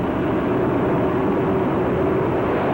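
A racing snowmobile engine drones steadily at high throttle during a watercross race at the 1997 Dairyland Super Nationals, a constant distant whine across open water with no talk.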